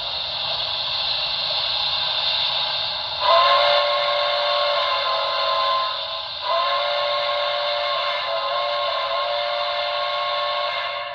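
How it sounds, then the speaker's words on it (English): Steam whistle from a BLI brass hybrid ATSF Blue Goose #3460 model train sound decoder, a loud sustained whistle held for about eleven seconds, with a brief stronger swell near the start and another dip and restart midway. "Let's see what the other whistle sounds like."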